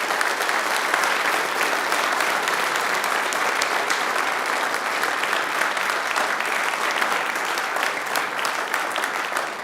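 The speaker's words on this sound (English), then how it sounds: "let's give one more round of applause to all of our candidates this evening" An audience at a local election hustings in Woking gives the candidates a sustained round of applause, a dense, even roar of many hands clapping from start to finish.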